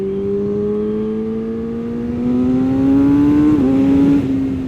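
A Kawasaki ZX6R sport motorcycle accelerates loud and close, its engine whine climbing steadily in pitch through the gears with a brief dip at a shift before rising again, no voices over it.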